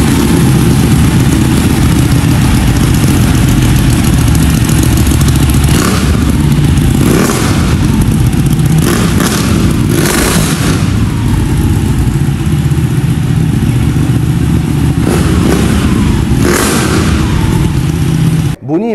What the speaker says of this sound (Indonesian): mari kita cuba start tengok ini Ducati Panigale 1199.